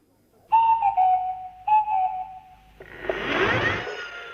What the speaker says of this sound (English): reading those peculiar sounds of the Swanee whistle